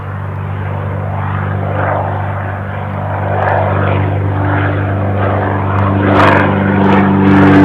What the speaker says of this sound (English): Bit of light aircraft action as we await Air France's arrival